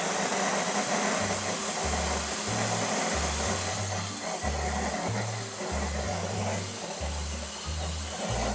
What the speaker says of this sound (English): we can put in the fresh garlic, the fresh basil leaves into the food processor